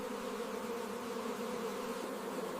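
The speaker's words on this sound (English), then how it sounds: "Beekeepers manage thousands of bees inside specially designed hives." Honeybees buzzing around beehives, a steady, dense droning hum of many insects close by, continuous and even with no voices.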